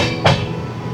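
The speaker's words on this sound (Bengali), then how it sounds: "পুরো জঙ্গলের মাঝখান থেকে ট্রেনটা যাচ্ছে আমাদের" A train running through forest in the Dooars, with tunnels along the line: a continuous close rumble broken by one short, sharp clank.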